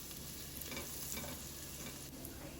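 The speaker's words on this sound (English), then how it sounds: "Let that saute for about 30 seconds." Minced garlic sautéing in olive oil and butter, a faint, steady crackling sizzle that holds at an even level throughout with no voices.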